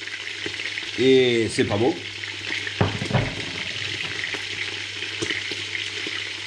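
Turkish collared dove pieces fry in a pan with a steady, crackling sizzle and a few brief clatters as the pan is handled and covered, while a voice speaks briefly near the start.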